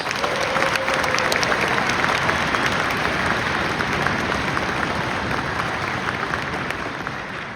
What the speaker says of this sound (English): Can we give all those people a round of applause?